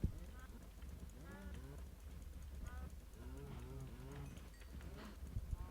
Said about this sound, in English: so we've got hungry cows. Hungry, hungry, hungry cows